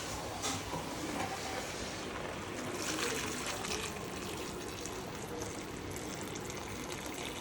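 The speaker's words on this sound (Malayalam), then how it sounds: "വെള്ളം തിളയ്ക്കാൻ വെച്ചിട്ടുണ്ട്, അതും കൂടെ ഒഴിക്കാം." Boiling water poured into a pot of chicken biryani at home, a steady broadband pouring and trickling rush that continues evenly for several seconds, close and fairly loud, with no talking.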